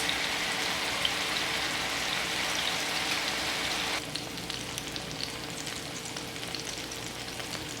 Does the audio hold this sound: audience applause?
no